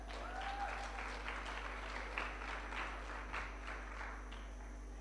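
Faint, distant applause from an audience at a beauty pageant's top model competition, steady clapping over a low, constant hum.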